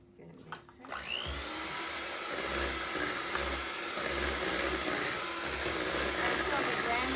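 An electric mixer whirs steadily and loudly, blending graham cracker crumbs with butter after a brief clatter at the start.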